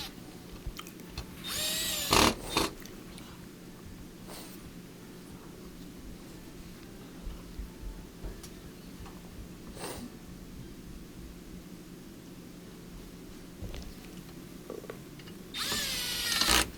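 A power drill drives screws holding the console onto the frame of a Samsung stove during a touch pad replacement, giving two loud whirring bursts near the start and end with faint clicks and handling noise between.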